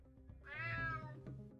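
Single drawn-out cat meow in the video game UNMETAL, clear and fairly close, rising and then falling over about a second with faint game ambience behind it.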